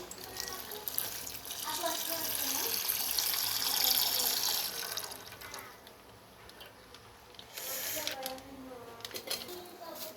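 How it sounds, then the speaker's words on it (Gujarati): Milk is poured into boiling ginger tea in a pot, a steady gurgling splash that swells for several seconds, then eases into softer bubbling and clinks, with faint voices nearby. "ઉકળી ગયું છે, આપણે દૂધ રેડી દઈએ."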